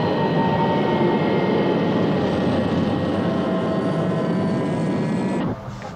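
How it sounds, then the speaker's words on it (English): A Lunar Module spacecraft docks at Moon Base in a sci-fi show, giving a loud, steady engine roar with a high whine that cuts off abruptly near the end. "The Lunar Module with Colonel Freeman on board is docking now."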